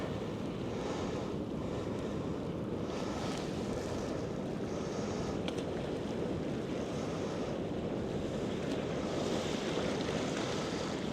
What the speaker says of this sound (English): Just had another surge of tide coming in